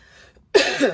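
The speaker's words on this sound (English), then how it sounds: "I apologise for the coughing" A single harsh cough bursts out after a near-silent moment, loud and close, with a raspy throaty tail.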